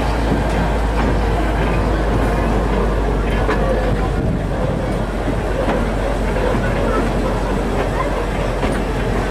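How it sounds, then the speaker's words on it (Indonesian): The Ambarawa tourist train, a single carriage on a heritage railway, departs from platform 1 at Ambarawa station bound for Tuntang, giving a steady, loud, continuous rumble with a low hum underneath and no clear talk. "Kereta wisata Ambarawa berangkat dari jalur 1 stasiun Ambarawa tujuan akhir Tuntang."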